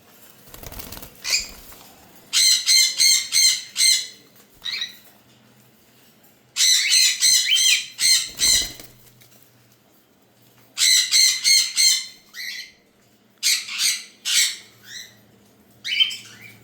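Bursts of shrill squawking from four pairs of adult cockatiels come in repeated clusters, loud and close, with quiet gaps and occasional wing flutters between them.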